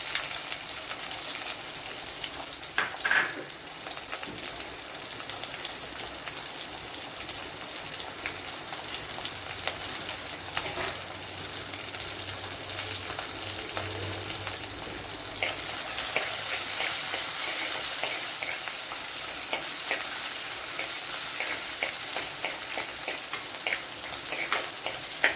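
Dried red chili, crushed garlic, ginger and green chili frying in hot oil give a dense, continuous crackling sizzle with occasional stirring scrapes, growing a little louder toward the end, with no voices.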